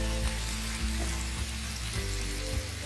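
Chopped tomatoes, two large ones, sizzle in a pan of eggplant and potato curry, a steady close frying hiss with a low hum beneath and soft periodic thumps of stirring, no voices.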